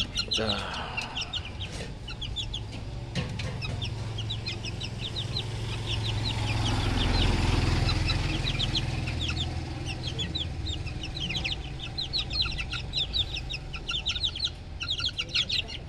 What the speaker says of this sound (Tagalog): Yan na yung ating mga Gilmore hatch mga kasabong.